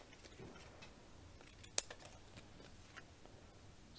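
Scissors trim small pieces of card, giving a few faint, sparse snips against a quiet room, with one sharper cut standing out near the middle.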